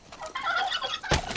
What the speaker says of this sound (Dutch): Kalkoen.